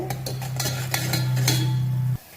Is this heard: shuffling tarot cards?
no